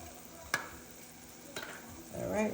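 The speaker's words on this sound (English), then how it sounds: "give this a good little stir" Spoon stirring a pot of Cajun dirty rice mixture with bay leaves added, giving a couple of sharp scraping knocks against the pot, then a brief burst of sizzling and shuffling near the end.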